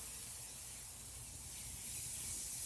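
Steady hissing spray onto grill grates over ashing coals, running continuously at close range, a broad airy whoosh without pauses or voices.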